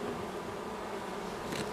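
Honeybees buzzing at a hive in late winter, a soft, steady insect hum that runs without a break and with no voices.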